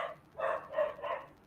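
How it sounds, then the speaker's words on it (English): A dog barks three times in quick succession at moderate distance, each bark short and evenly spaced, with a faint yelp just before them. "Oh, dog's barking."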